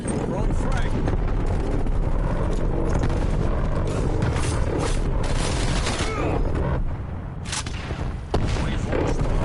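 Frag grenades and gunfire in a Call of Duty: Cold War match produce heavy, continuous booms and dense rattling shots, with a sharper blast near the end. Voices talk over the combat throughout.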